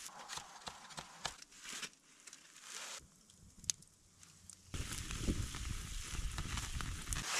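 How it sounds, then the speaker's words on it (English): Meat sears over an open campfire while out camping, a steady crackling sizzle with scattered pops that grows louder and denser in the second half. "We're gonna sit it over this fire and just sear the outside."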